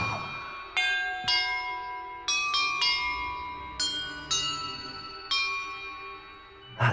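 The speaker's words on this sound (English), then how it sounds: "Perhaps the map contains clues about the order I'm supposed to ring the bells in." A set of bells rings in Hogwarts Legacy, about eight separate clear strikes at uneven intervals, each ringing out and slowly fading, close and loud, with no talk.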